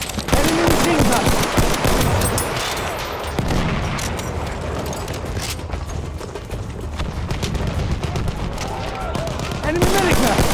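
Enemy machine gun fire in the video game Battlefield 1, a loud, continuous rattling burst that runs nearly unbroken amid dense surrounding battle noise and other weapon fire.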